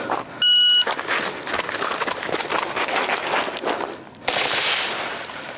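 Rapid gunfire on an outdoor shooting range after a shot-timer beep, a dense burst of shots lasting several seconds, loud and close, followed by a second beep.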